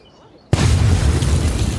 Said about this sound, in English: The massive, deafening explosion echoes throughout downtown Manhattan.